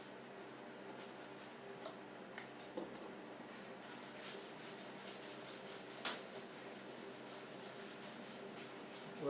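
Sealer being rubbed by hand into a turned teak wood bowl, a faint, steady scrubbing friction with a few light taps and knocks, close and quiet, with no voices.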